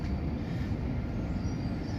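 Interior of a clean, nearly empty passenger train running, with a steady low rumble and rolling wheel noise, no talk.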